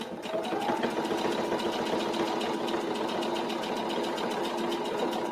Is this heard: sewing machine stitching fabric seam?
yes